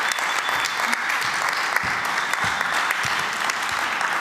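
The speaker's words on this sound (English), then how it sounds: "Please give her a round of applause." Audience applause for a panelist at a conference panel, a full, even burst of many hands clapping that holds steady throughout with a few sharper individual claps standing out.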